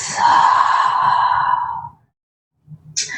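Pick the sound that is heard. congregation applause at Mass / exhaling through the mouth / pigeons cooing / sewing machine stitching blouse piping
exhaling through the mouth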